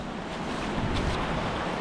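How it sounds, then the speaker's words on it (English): Boots splash and wade through a shallow stream in open country, a continuous close rush of churned water mixed with wind noise. "Even though I shouldn't be splashing it because it's going all in my shoes"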